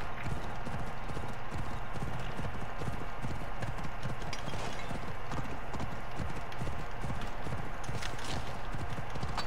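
Steady, rapid hoofbeats of a galloping horse continue without pause, dense and rhythmic under a constant background hiss, in the video game Assassin's Creed Odyssey.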